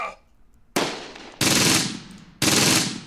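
Three loud bursts of machine gun fire from the WWII strategy game Close Combat: Gateway to Caen, each a dense rattling volley, close and harsh, with brief quiet between them.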